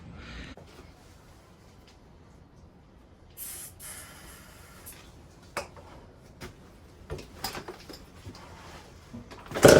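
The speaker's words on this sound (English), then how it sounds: "spray a bit easy start in it" A few short hisses of aerosol starting fluid sprayed into a Honda CR80 motorcycle engine burst out between quiet stretches, followed by clicks and clattering handling noises, growing louder toward the end.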